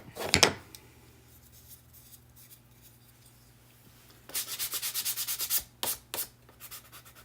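Sanding a small pine wooden reindeer craft: a short rough rub at the start, then after a pause a rapid series of loud back-and-forth sanding strokes, close and alone.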